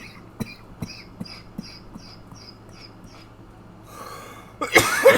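A man coughing hard after smoking cannabis: a short series of rough, loud coughs near the end, following quieter rhythmic sounds.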